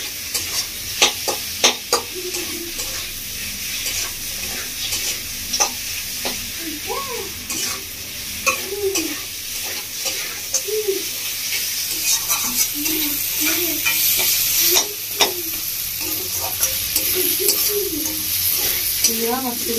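Spice masala for a rohu fish head and moong dal dish being sautéed in a pan, with steady sizzling and repeated stirring scrapes, and faint bird coos in the background.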